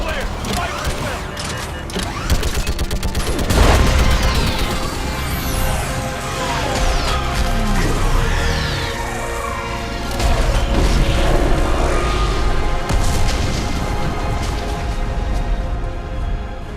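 Mass Effect battle against a live Reaper, with heavy weapons fire, booming explosions and crashing impacts rolling continuously and loudly, dense layered blasts building in waves.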